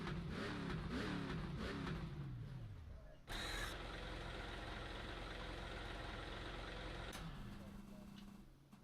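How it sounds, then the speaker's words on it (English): An engine in a NASCAR game, set at Daytona, runs with a falling rev sweep, then a sharp restart into a steady rough idle that fades out near the end. There is no talk over it. "I'm going to keep this engine going."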